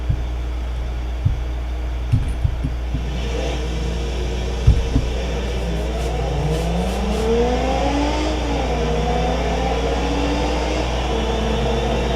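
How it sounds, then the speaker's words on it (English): A car in a BeamNG.drive drag race doing a burnout on a slick start line, its engine droning and revving upward in rising sweeps, loud and steady with a few faint clicks early on. "The beginning of the track seems slick, so you can do a burnout."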